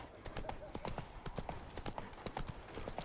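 Roach the horse gallops in The Witcher 3, a steady clip-clop of hooves pounding in quick rhythm throughout, close and fairly loud, with game voices and other noise mixed beneath.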